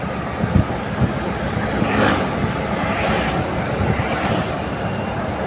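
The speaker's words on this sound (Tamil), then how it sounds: "சிமிதி கொண்டு போகிற இந்த பவுசர் போகுது" A cement bowser truck rumbles past on a Sri Lankan road, a broad loud engine roar heard from a moving scooter with heavy wind noise throughout.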